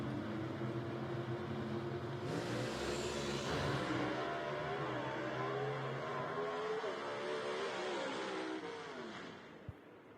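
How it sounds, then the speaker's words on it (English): A gasser drag race car at Knoxville Dragway roars off the line and accelerates down the strip, a loud sustained engine howl rising in pitch and then fading into the distance. "just glad that the car's going straight and getting down the racetrack"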